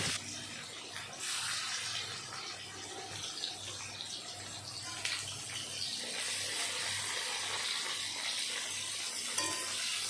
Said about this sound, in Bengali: তেল গরম হয়ে গেল, তারপরে দিয়ে দিলাম মেখে রাখা মাছগুলো।